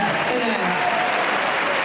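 Crowd applause at Roland-Garros during a tennis match between Roger Federer and Rafael Nadal, a dense steady wash of clapping filling the whole moment with a commentator's voice faintly underneath.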